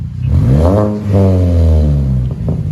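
2006 Mini Cooper 1.5L with a DTM muffler, revved close up: two quick throttle blips climbing into a raspy exhaust growl and falling back, then a short burble at the end.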